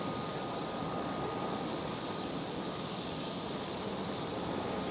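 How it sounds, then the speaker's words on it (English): At Schiphol Amsterdam, an airliner's engine number 1 spools up with a steady, loud broadband roar and hiss that holds constant for about five seconds, with no speech over it. "Starting engine number 1."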